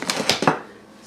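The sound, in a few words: whisking baking powder, baking soda and salt into flour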